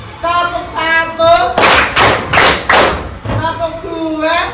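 Children in a classroom clapping on a teacher's count: a burst of several loud, rhythmic claps in the middle, with a voice speaking before and after.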